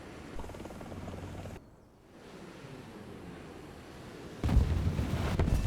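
Distant missile impacts land in a helicopter combat game featuring the Chinese Z-10ME attack helicopter, heard as a muffled rumble, a brief hush, then a louder boom and roaring aftermath.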